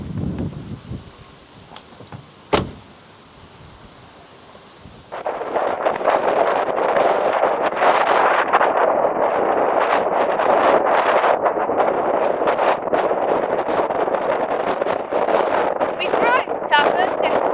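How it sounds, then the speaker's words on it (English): Strong wind buffets a microphone on a very windy winter hill near the source of the River Douglas. After a quieter opening with one sharp thump, loud, continuous gusty roaring takes over. "on a very windy winter hill"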